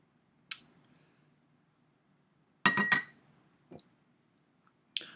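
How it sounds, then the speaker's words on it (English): Glassware clinking as drops of water are added to a glass of Jim Beam Black whiskey, a few sharp isolated clinks and taps separated by silence, close and quiet. "let's go ahead and put like a drop or two of water in it"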